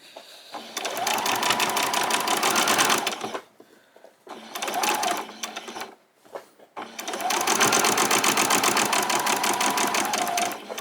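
A sewing machine stitching a summer top in three rapid runs, a long burst, a short one and another long one, each a dense rattling whir, separated by brief pauses.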